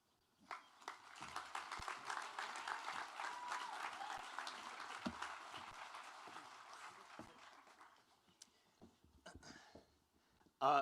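Graduation ceremony crowd applauding a class-chosen speaker, a soft, fairly distant wash of clapping that swells and then fades out near the end, followed by a few isolated sounds.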